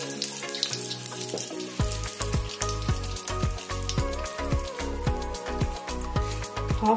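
Asafoetida and spices for a sweet-sour pumpkin sabzi hit hot oil with a loud, crackling sizzle, close by and continuous, with rapid popping bursts through the sound.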